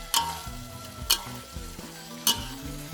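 Pork stir-frying with holy basil in a wok over charcoal in an outdoor garden, giving a steady low sizzle broken by three sharp metallic scrapes of the spatula.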